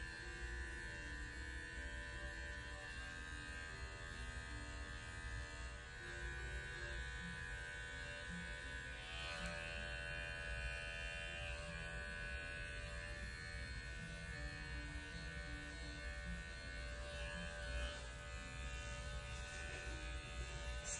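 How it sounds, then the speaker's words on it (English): Electric dog clipper fitted with a 7F blade trimming the coat of a Maltese Yorkie mix, a continuous steady motor buzz with slight shifts in tone as it works through the fur, close and constant. "We still have the 7F blade on the clipper."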